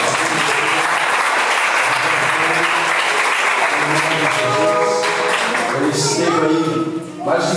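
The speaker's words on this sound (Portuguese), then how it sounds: "quem pode aplaudir a Jesus." A church congregation applauds Jesus, loud sustained clapping close by, with voices talking and calling out over it before it thins near the end.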